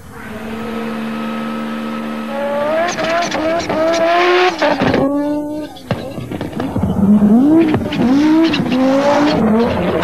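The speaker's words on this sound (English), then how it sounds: "Ari Fatanen in his 16-valve Peugeot 205." Ari Vatanen's Group B 16-valve Peugeot 205 rally car climbs Pikes Peak, its engine revving up and down through rising and falling gear pulls, loud and close, with tyres squealing in places and a voice talking over it.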